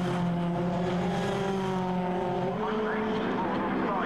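Ginetta race cars pass on the Brands Hatch circuit, heading down toward Clark Curve, a loud sustained engine drone with shifting pitch as the cars sweep by under a commentator's voice.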